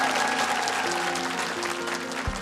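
Audience applause after an acrobatics performance on a televised talent show stage, a steady crowd of clapping hands running throughout, with a faint musical tone underneath and a thump at the end.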